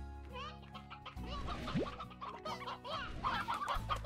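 Hens cluck repeatedly in the Slime Rancher video game, a busy run of short game-animal clucks with a voice speaking and game music playing underneath.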